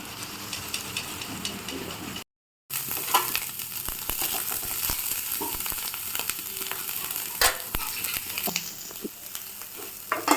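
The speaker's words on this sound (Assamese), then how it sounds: "মাছৰ কণীখিনি প্ৰথম অলপ সময় ভাজি ল'ম তাক ভাল ধৰণে।" Fish roe frying in a pan for a tangy gravy with raw mango, a steady close sizzle with crackling pops and occasional stirring scrapes, broken by one brief silent gap.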